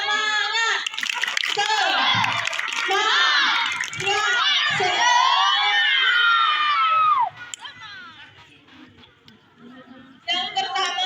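Elementary schoolchildren at a Ramadan gathering at SDN 116 RL Kampung Delima loudly shout a rhythmic group clapping chant together, the voices and claps dropping to murmurs midway before another loud burst.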